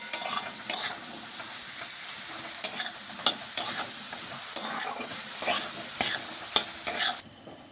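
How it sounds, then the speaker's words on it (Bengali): Potato pieces fry in hot oil with salt, a continuous close sizzle punctuated by repeated sharp scrapes and clacks of a spatula stirring in the pan, roughly one stroke per second, with no voices. "লবণ দিয়ে আমি একটু ভেজে নিচ্ছি এই যে দেখুন আলুটা"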